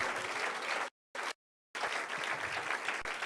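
A church congregation bursts into loud, sustained clapping and cheering, broken by two brief silent gaps before carrying on.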